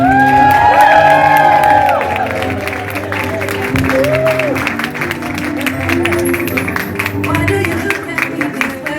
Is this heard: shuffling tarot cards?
no